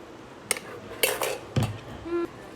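Pots and dishes clank while cooked ramen noodles are strained: a few distinct metallic knocks and clatters spaced about half a second apart, with a short ringing tone near the end, and no talk.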